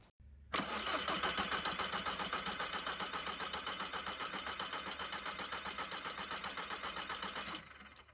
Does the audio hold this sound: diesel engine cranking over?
yes